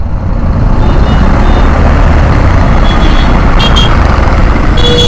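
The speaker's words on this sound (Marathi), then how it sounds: "काय यार सिग्नल सुटलं तरी पण ट्रॅफिक आहे" Heavy road traffic at a busy junction at Kalamboli Naka, with trucks and cars rumbling steadily and close. A continuous low engine roar fills the whole stretch, with a few brief higher squeals or beeps near the end.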